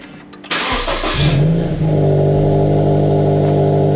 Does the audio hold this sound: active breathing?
no